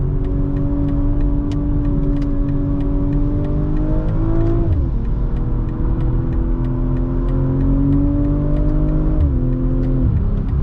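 A 2024 BMW M340i xDrive engine pulls hard in a sustained, loud rev climb with two gear shifts, its rising tone dipping sharply at each change before climbing again, heard from the cabin on a slightly greasy track.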